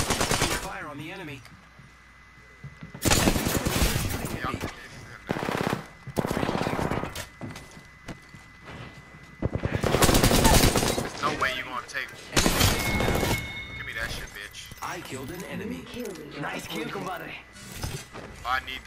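Fast bursts of R-99 submachine gun fire in Apex Legends, several sharp loud volleys separated by quieter gaps, with game mechanisms and a voice heard intermittently between shots.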